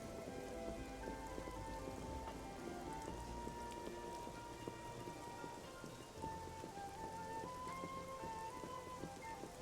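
Steady rain pours down continuously in the video game Xenoblade Chronicles 2, a dense patter of drops on surfaces with no pauses, fairly loud and close, with no voices.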